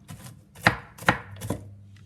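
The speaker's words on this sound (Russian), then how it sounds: "100 грамм грецких орехов измельчим." A knife chops walnuts on a cutting board, four crisp strokes about half a second apart, close up with no talking.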